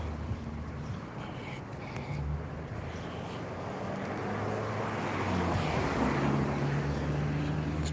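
Cars and lorries roar past close by on a road, a broad rumbling wash of engine and tyre noise that swells louder toward the end.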